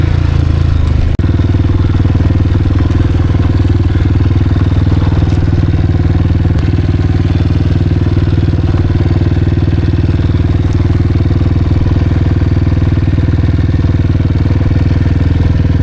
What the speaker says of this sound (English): I'm just going to try to use engine braking and minimal front and rear brake